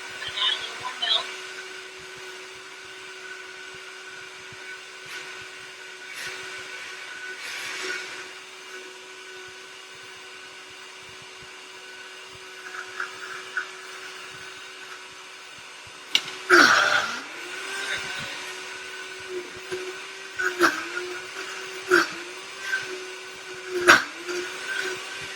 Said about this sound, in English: Really making a smoothie. If you find it's not blending as well as you like, you might need a little more liquid.